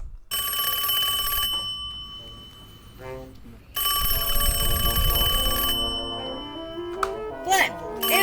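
An electronic telephone rings in bursts of bright, sustained tones that cut off and restart, with other sounds and a brief voice mixed in between rings.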